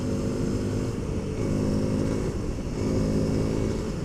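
A Honda CRF300L motorcycle with its intake snorkel removed gives a steady, low engine drone under throttle. The induction growl carries throughout, slightly rising and falling, with no speech.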